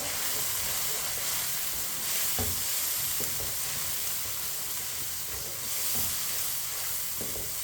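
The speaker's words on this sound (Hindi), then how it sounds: "एक मिनट के लिए ऐसे ही चम्मच लाते हुए पका लेते हैं मटर को।" Green peas sizzling in hot oil in a pot while being stirred with a spoon for matar pulao, a steady soft frying hiss with occasional scraping clinks, no talk.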